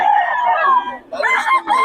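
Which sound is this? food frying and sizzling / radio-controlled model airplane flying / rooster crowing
rooster crowing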